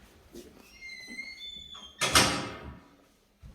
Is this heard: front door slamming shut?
yes